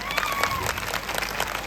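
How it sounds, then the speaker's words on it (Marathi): A large crowd applauds loudly at a big gathering, a dense, continuous wash of clapping with a few cheers mixed in, close and steady throughout. "नाही, आता सगळ्यांनी एकदा जोरदार टाळ्या होऊन जाऊ दे."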